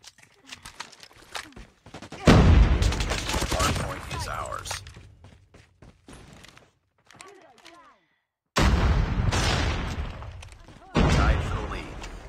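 Gunfire in a competitive first-person shooter match: bursts of rapid shots and sharp cracks coming in loud clusters with gaps of near silence between, under occasional voice comms and in-game announcer lines.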